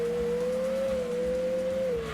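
A Mazda Demio oversteering through a sharp curve in Gran Turismo 2, a steady engine drone with a thin sustained tire squeal gliding slightly in pitch over about two seconds.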